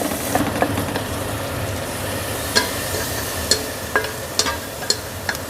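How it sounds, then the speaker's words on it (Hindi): Finely machine-minced meat sizzles and crackles in a hot pan after garlic-ginger paste, with scattered sharp clicks of a spoon stirring against the pan. "इसको हम उस वक्त तक फ्राई करेंगे जब तक कि कीमे का कलर चेंज ना हो जाए।"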